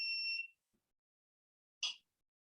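A toaster gives a sharp electronic beep, a steady high tone lasting about half a second, then a shorter, duller beep after a pause in an otherwise quiet room.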